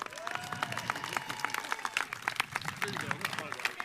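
Audience at a Columbus press conference on a HUD Choice Neighborhoods award claps in a scattered round of applause, moderately loud and irregular, while a speaker's voice carries on over it.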